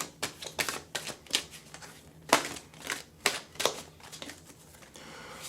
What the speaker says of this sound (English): We're going to throw a card from the Wild Wisdom of the Fairy Oracle deck. Let's go ahead and shuffle.